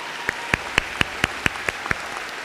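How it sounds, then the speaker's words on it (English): Sparse, distinct claps for a graduating class at a graduation speech, about nine sharp hand claps spaced at an even, unhurried rhythm, close and fairly loud with no voices. "So I think we deserve a round of applause."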